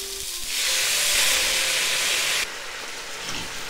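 Shishito peppers sizzle loudly in a hot pan just after sugar and soy sauce go in, a steady bright hiss that swells, then drops abruptly to a quieter sizzle as a lid goes on.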